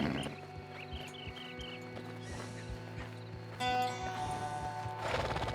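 A jumpy horse in an Age of Empires game, giving a string of nervous whinnies early on over steady rhythmic clip-clop hoofbeats and a humming ambient game bed, with a brighter swell of sound later; moderately quiet, nobody talking.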